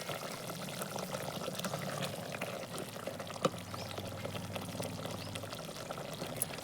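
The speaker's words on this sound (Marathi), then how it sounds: "आपण आता ह्याच्यात थोडंसं पाणी ओतूया आणि एक छानशी उकळी आणूया।" Water poured into a brinjal curry cooking over a wood-fired stove, a steady broadband pouring wash lasting several seconds with a brief clink partway through.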